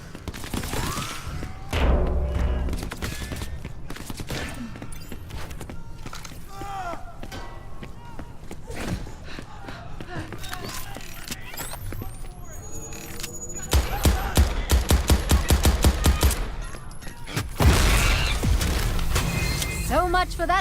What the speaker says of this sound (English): You should blow up every tank and kiosk you find.